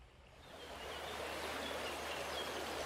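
Steady broadband rush of a stream swollen by heavy rain, its current running stronger than usual, heard close and continuous without a break, with no talk over it.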